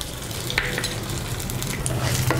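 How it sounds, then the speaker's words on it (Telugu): Chana dal (split chickpeas) being stirred and fried in a pan of tempering spices for dondakaya pachadi, a steady close sizzle with scraping spoon strokes throughout, no talking. "ఇప్పుడు ఆ సెనగపప్పు కాస్తగా వేగే వరకు అలా కలుపుకుందాం"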